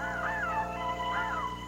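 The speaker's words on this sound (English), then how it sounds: "A flock of crows, one of the owl's worst enemies." Crows in a flock harassing an owl, two drawn-out rising and falling caws a beat apart, clear and fairly near over a steady background hum.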